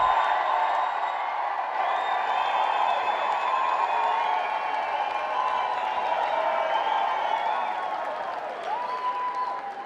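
A large premiere crowd cheers and applauds steadily for about ten seconds, a dense sustained roar of clapping with whoops rising on top, close and loud.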